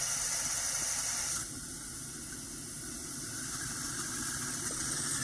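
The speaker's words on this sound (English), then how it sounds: "open it up and make it sound pretty much like a jet engine, and then back it off." A Coleman 533 camp stove burner turned up to a steady, roaring hiss like a jet engine, continuous and fairly loud, dropping slightly in level partway through as it is backed off.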